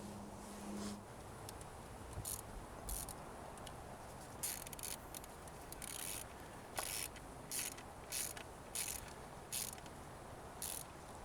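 A ratchet tightens Volkswagen valve cover bolts on a Mk V Jetta TDI, with short clicking bursts repeating irregularly, faint and close, over low background noise.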